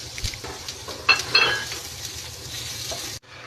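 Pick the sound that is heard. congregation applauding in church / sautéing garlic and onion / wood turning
sautéing garlic and onion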